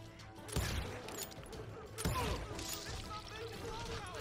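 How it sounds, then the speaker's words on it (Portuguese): Enemy gunfire in the Western shooter Call of Juarez Gunslinger comes as two distinct shots, each with a booming echo and ringing tail, over game ambience while someone talks. "Tem alguém, acho que ali em cima me atirando."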